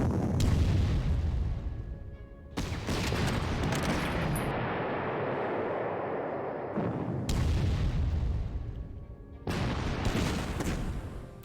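Artillery fire in the Panzer Corps strategy game during urban combat: several heavy booming salvos in separate bursts, each a loud broadband blast trailing into rumbling decay, with quieter gaps of lingering battle noise between them.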